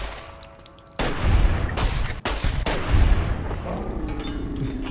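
Gunfire in Fallout: New Vegas as people are shot, heavy booming shots landing in a few loud bursts over a dense background of game noise.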